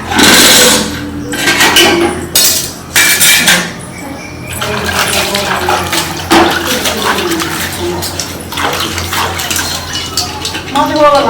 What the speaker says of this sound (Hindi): हम बर्तन धोइ छी